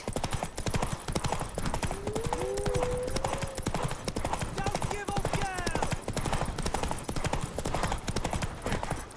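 Horse hooves clip-clop in the video game The Witcher 3, a quick, steady trotting rhythm that runs the whole time, with voices briefly speaking over it.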